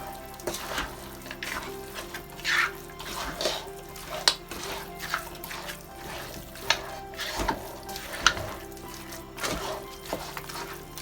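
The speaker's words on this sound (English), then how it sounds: "Give that a nice mix." Goat meat curry sizzles in a pot while being mixed, soft frying hiss broken by irregular scraping and clinking stirs every second or so, fairly quiet and close, no talking.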